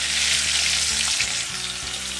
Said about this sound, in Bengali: এবার আমি যে ডুমো ডুমো করে আলুগুলি কেটে রেখেছিলাম সেগুলিকে দিচ্ছি